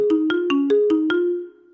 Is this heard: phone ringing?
yes